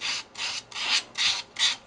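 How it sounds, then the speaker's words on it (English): A wooden square bowl being sanded on a lathe, heard as five close, even bursts of dry rasping scratches as the spinning corners catch the abrasive, with brief quieter gaps between them. "Alright, I'm just going to go ahead and sand it up."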